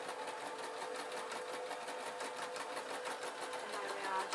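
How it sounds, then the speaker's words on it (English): A sewing machine stitches over a fabric seam while converting a broom into a mop, a fast, steady, close mechanical whir with even rapid pulsing, quiet overall and alone. "I'm just going over the seam now"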